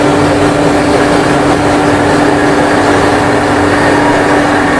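An electric motor held at a steady 700 RPM under a 4 kg load gives a constant, even whir with a steady tone, loud and unbroken throughout with no voices.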